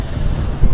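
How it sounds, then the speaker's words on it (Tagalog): Strong, cold outdoor wind buffeting the microphone in a low, steady roar, loud and close with no voices. "Lakas po ng hangin"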